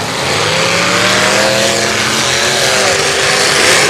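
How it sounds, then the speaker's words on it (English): A demolition derby car's engine screams at full throttle on a dirt track, a loud, close roar with rising and falling rev pitch sustained throughout, with no speech. "Tom hard on the throttle"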